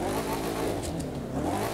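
A monster truck engine in an off-road video game revs in a dense, continuous growl, loud and steady over a short stretch with no speech.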